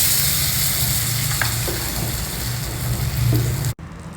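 Hot oil tempering of mustard seeds, urad dal, dry red chilli and hing sizzles steadily as it is poured over South Indian kootu, a close, dense crackling hiss with small pops, ending in a sudden cutoff.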